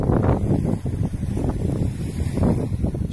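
Wind on a beach in Anapa, beside the Anapka river, buffets the microphone in a continuous low, rumbling roar that fills the whole stretch with no voices.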